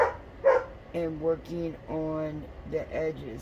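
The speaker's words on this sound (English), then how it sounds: "I do apologize for the dog in the background." A pet dog named Sasha barks and yips in short repeated bursts behind someone talking indoors while painting craft edges, the barks fairly close and prominent.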